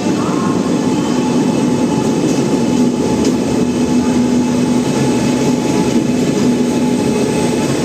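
A passenger train on the new Trichy–Tambaram service via Thanjavur rumbles past close by, a loud steady roar of wheels and rail with a faint whine and light clatter, no talk.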